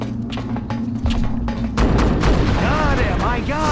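Alien weapon fire in Destroy All Humans! Path of the Furon, heavy booming shots and thuds layered with sci-fi warbling tones, growing louder midway, with a voice speaking over part of it.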